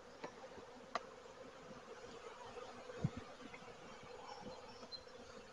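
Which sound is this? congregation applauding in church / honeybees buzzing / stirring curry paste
honeybees buzzing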